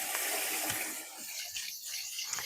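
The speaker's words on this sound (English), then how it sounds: "I'm going to just wash my hands real fast." Tap water runs steadily into a sink while hands are washed under it, a continuous close hiss with small splashing changes as the hands move through the stream.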